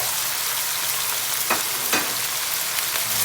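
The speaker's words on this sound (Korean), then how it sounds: "자, 그리고 볶아주세요" Vegetables for homemade jjajang stir-fry in a hot pan, a loud continuous sizzle broken by two sharp scraping stirs midway and a softer one later, no voices.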